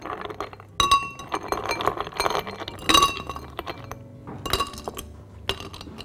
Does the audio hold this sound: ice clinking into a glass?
yes